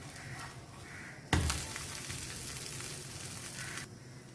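Sweet cassava adai sizzles in oil on a pan, and a sudden crackling burst swells and then settles into a steady frying hiss.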